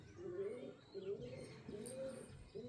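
Breeding pigeons in a loft give repeated rolling coos, four rhythmic low calls close by, with faint chirps and background noise around them.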